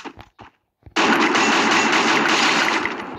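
Gunfire in the mobile shooter Free Fire: a few short clipped bursts, a brief gap, then a loud sustained stream of rapid automatic fire that fades slightly toward the end.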